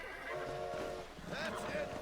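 A horse being tamed in the Red Dead Redemption video game whinnies in short wavering cries alongside hoof clatter, faint under people talking.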